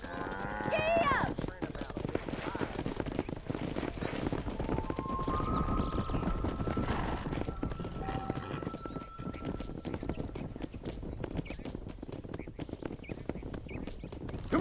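Horse hooves galloping in the Red Dead Redemption video game, a fast continuous clip-clop drumming throughout, with a whinny near the start, cattle lowing, and brief spoken lines.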